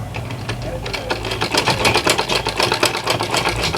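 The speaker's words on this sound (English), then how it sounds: "I'm going to top stitch here to hold the pocketing down to the body." A sewing machine runs a steady, fast mechanical patter while top stitching a side slant pocket, holding the pocketing down to the garment body; the whirring motor drones continuously at close range and fairly loud throughout.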